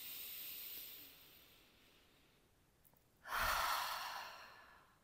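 A long exhale fades out, followed after a pause by a deep, loud breath drawn in sharply through the mouth, close and breathy with no talk.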